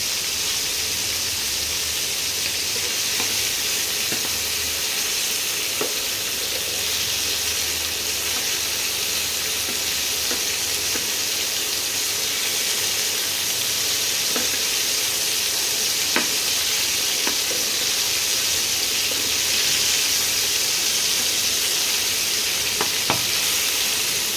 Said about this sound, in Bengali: এইভাবে সব মাংসগুলো আমি ভেজে নিচ্ছি।